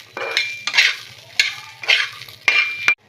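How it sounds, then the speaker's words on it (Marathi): Green peas dry-roasting in a pan, stirred in about five distinct rhythmic scraping sweeps of a spatula, each with a brief rattle of the peas, loud and close. "मस्त छान असे आपल्याला हे वाटाणे भाजून घ्यायचे आहेत"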